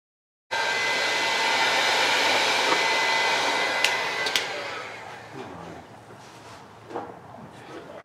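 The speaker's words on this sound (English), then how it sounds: "I had my heat gun packed." A heat gun blows steadily while shrinking heat-shrink tubing on boat wiring for a flats skiff build, a loud continuous airy roar that runs close for several seconds and then tapers off, with a few faint clicks and handling noises.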